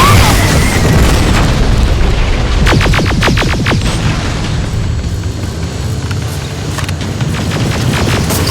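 Heavy, rumbling grenade blasts and booming combat explosions fill a battle in the video game Terminator Resistance, loud and continuous, with a burst of rapid rattling fire in the middle.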